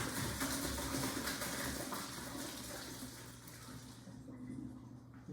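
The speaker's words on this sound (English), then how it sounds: "Grab the pot, bring it over to the sink to strain it." Cooked pasta shells and water pour from a pot into a strainer in a kitchen sink, a steady loud splashing rush lasting several seconds before thinning out near the end.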